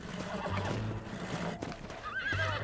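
In the Red Dead Redemption video game, a horse whinnies and neighs over the rhythmic clatter of its hooves, the whinny rising toward the end of the short stretch.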